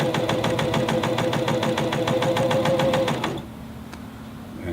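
A cover stitch sewing machine runs fast through fleece in a steady, rapid mechanical chatter, close and loud, then stops abruptly about three-quarters through, leaving a quiet hum.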